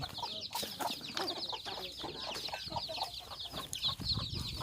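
Hens cluck and chatter continuously nearby, a dense overlapping flock with occasional louder squawks and no talking.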